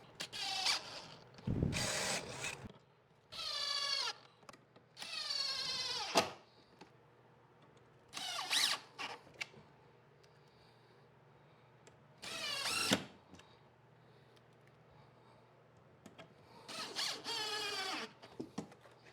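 A power drill pre-drills holes into a wooden bench top in several bursts of whining, rising spin, each lasting a second or two with quiet gaps between, close and fairly loud.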